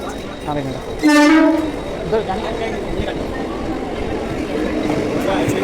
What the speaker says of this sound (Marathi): ट्रेन आली तुझ्या साईड आली